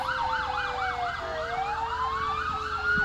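A fire truck siren passes in the 2002 Clarenville Lions Christmas Parade, a loud wailing tone that sweeps rapidly up and down, with a steadier tone beneath it and street noise in the background.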